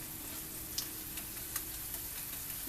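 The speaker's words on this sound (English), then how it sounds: "It's important in this to try to keep stirring this." Vegan black olive caviar simmering in a pan while being stirred, a steady soft sizzle and bubbling with a few faint clicks of the spoon, close and quiet, no talking.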